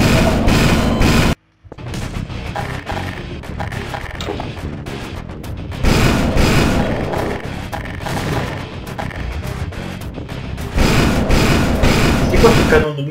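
Cannon fire in the video game Half-Life: Source during a tank fight comes as heavy booming blasts and mechanical rattles in loud clustered bursts, with a brief silent gap, while someone talks.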